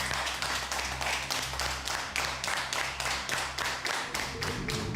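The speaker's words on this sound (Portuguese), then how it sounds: "Uma salva de palmas para vocês." Steady applause from a church audience fills a large, roomy hall during a Spirit of Prophecy week service, a continuous wash of many hands clapping at an even level throughout with no clear speech.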